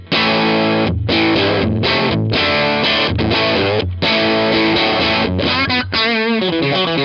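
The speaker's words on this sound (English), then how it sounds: "this is a really cool sounding overdrive" Electric guitar runs through a UAFX compact overdrive pedal that stacks two 1176-style compressors, giving thick, saturated chords with brief gaps between strums and a sustained, wavering tail at the end, loud and alone.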